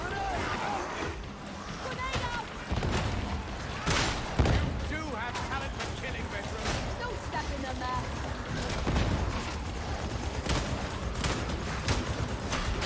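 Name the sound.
gunfire in the video game Warhammer 40,000: Darktide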